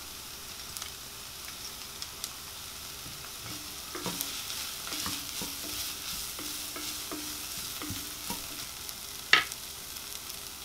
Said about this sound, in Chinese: 洋葱炒香炒软之后呢就加入切好的蒜末